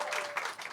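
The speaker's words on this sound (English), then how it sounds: "Do we have any military in here by round of applause?" Brief, dense applause from a comedy club crowd, a continuous wash of clapping with no voices over it.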